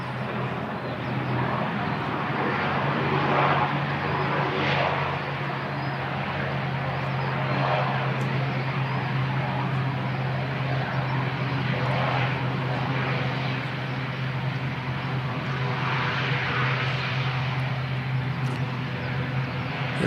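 A steady, loud propeller drone of airliner NZ5775 from Napier passing overhead at Christchurch Airport in wet conditions, a continuous low hum and broad roar lasting throughout.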